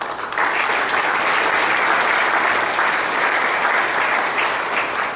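Sustained, dense applause from a seated audience at a golf association's distinguished service award ceremony, steady and loud throughout with no talking over it.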